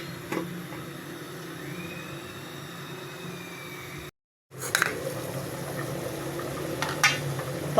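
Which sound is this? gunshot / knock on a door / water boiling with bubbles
water boiling with bubbles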